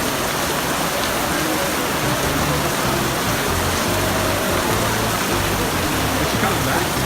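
Steady rain falls outdoors, a dense continuous hiss of drops on surfaces that stays even throughout, with faint voices now and then beneath it.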